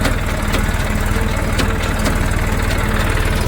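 A tractor engine idles steadily in a field during a GPS setup test, a continuous low, throbbing rumble with rapid rhythmic pulsing, close and loud throughout with no talking.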